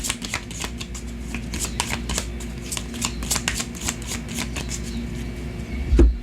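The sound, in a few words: shuffling a Cigano (Gypsy) tarot card deck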